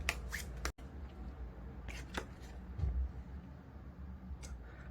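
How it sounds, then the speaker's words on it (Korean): Tarot card drawn from a deck, quiet close rustles and soft papery flicks with a few sharp snaps, no talking. "마지막 카드 한 장을 뽑고서 리딩 마치도록 할게요."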